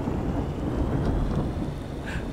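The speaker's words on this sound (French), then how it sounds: "L'orage, Fucano, enlève la pluie, s'il te plaît." A video game thunderstorm: steady heavy rain with a deep rumbling of thunder beneath, loud and continuous, no voices.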